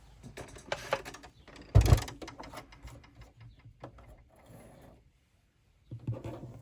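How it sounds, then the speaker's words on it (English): A sewing machine stitching felt, whirring in short bursts with pauses between, close up and mechanical, then a brief silence before it starts again. "let's get our sewing machine back in"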